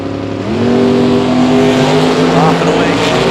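Drag racing cars launch at a bracket race, the engines roaring loud and close as they rev hard off the line, with an announcer talking over the din.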